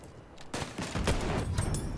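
Gunfire from a Martini-Henry sniper rifle in Battlefield 1, a dense run of several sharp loud shots and crackling blasts over about two seconds, close and punchy with overlapping battle noise.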